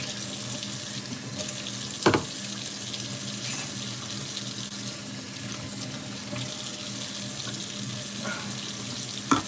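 Tap water runs steadily into a sink as cans of vegetables are rinsed under it, a continuous hiss with a few brief knocks of metal cans against the basin.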